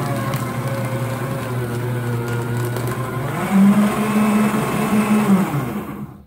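A PS-12CS paper shredder chews through magazines and cardboard, a loud steady motorized grinding with a strained rise in pitch partway through, running alone until it cuts off at the end.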